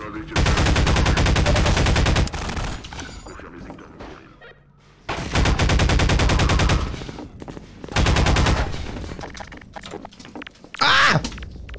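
Gunfire in the Half-Life 2 video game: loud, sustained automatic bursts, three long volleys separated by quieter pauses, then a short final burst near the end.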